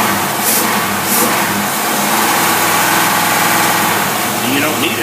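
A Lincoln Ford engine fitted with a Carter AFB carburetor runs loud and close as it is accelerated, a steady rough engine roar with some rising revs throughout.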